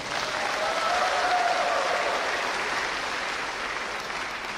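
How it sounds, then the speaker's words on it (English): Big round of applause from a large audience for the Chief Minister at a state-level youth engagement program, a dense, even wash of clapping held steady throughout. "let's give our Honorable Chief Minister a big round of applause"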